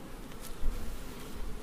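Honey bees buzzing around a frame of brood lifted from a hive, a soft continuous hum with a slightly louder swell partway through, close and steady with no talking.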